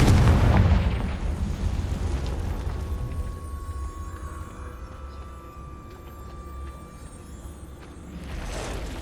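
A spell explosion in the Hogwarts Legacy video game sets off a loud booming blast at the very start, followed by a long, rumbling fade with a steady game ambience underneath.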